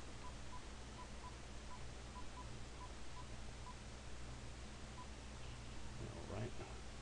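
A landline telephone being dialed: a quick series of about a dozen evenly spaced keypad tones over a low hum, followed by faint rustling, quiet overall.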